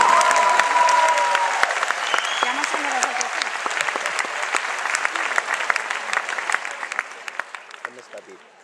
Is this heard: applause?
yes